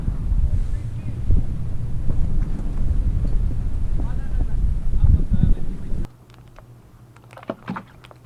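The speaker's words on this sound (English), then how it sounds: "It's quite windy." Strong wind buffets a sailing boat at a mooring ball off Croatia's Pakleni Islands, loud, steady and rushing for about six seconds, then dropping to a quiet hush with a few faint knocks.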